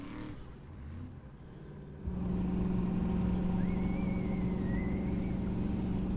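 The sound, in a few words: formula offroad car engine revving while climbing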